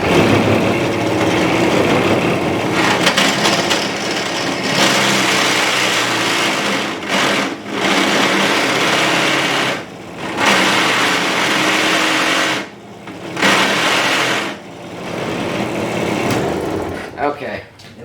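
A drill press runs continuously, boring into a guitar part, with a steady loud whirring motor drone and brief dips as the bit cuts. Someone talks over it.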